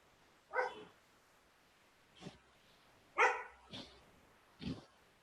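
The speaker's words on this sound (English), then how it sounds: "the dog wants to be let out" A dog barks from a distance in a quiet indoor setting, five separate barks spaced irregularly over a few seconds, two of them louder and sharper than the others.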